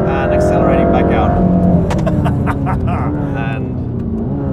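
A Mercedes-AMG GT3 race car accelerates out of a corner on a track, its loud engine droning and rising in pitch from close by, while a person talks over it.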